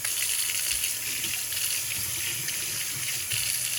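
Water runs steadily from a newly installed Kohler kitchen faucet into a sink, a continuous broadband hiss holding at an even level for about four seconds with no voices.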